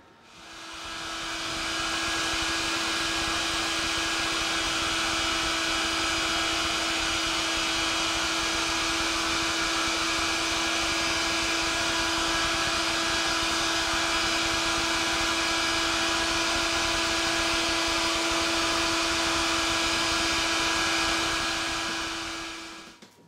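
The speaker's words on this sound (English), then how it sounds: "with the hairdryer still going, you work the wax into these corners" A hair dryer runs steadily and loudly, a constant whine and rush of air used to melt wax into the crevices of a wood carving, switching on and winding down at the ends.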